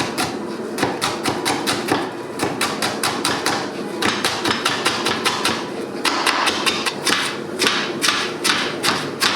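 A knife chops scallion on a cutting board in quick, steady, evenly spaced strokes that thud sharply and carry on without a break.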